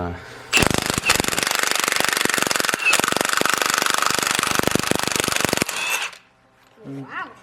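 A pneumatic impact wrench hammers on a lug nut of a 4WD wheel during hub and ball joint work, one loud sustained rattling burst of about five seconds, close by, followed by brief voices.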